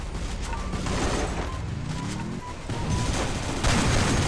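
Grenade blasts and gunfire in the mobile shooter Free Fire, a dense continuous rumble of explosions and crackling shots, loud and close throughout.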